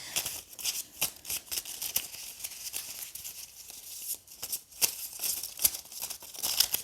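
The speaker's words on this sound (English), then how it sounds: "I'm going to shuffle around a bit and get one for your reading" Tarot cards being shuffled by hand, a rapid, irregular series of soft papery slaps and riffling crackles, close and fairly quiet, continuing without talk.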